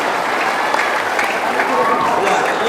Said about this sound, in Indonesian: Tepuk tangan dulu Tanjung Batu.